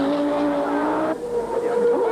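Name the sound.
Audi Quattro rally car accelerating away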